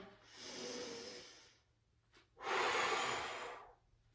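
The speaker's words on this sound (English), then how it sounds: "Normal breath in, normal breath out." Slow yoga breaths during an Uddiyana Bandha flow: two long airy exhalations or inhalations, each about a second and a half, separated by a short pause, close and soft with no talk.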